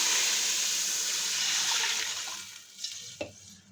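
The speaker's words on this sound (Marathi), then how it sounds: "त्यात पाणी टाकून घेणार आहोत." Water pours into a pot of hot oil with a loud rushing hiss that gradually fades, ending with a couple of brief splashy bursts; no one speaks.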